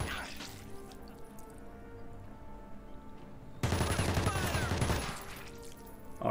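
Gunfire in Jagged Alliance 3 erupts as a loud, dense burst of rapid shots for about a second and a half, standing out from a quieter ambient game backdrop.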